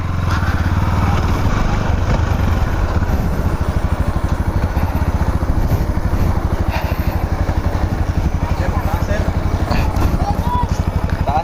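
A motorcycle engine idles steadily and loudly throughout, a rapid pulsing putter with faint clatter over it.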